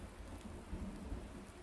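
Steady, faint rainfall with a low, muffled rumble of thunder beneath it in Farming Simulator 19, continuous throughout with no voices.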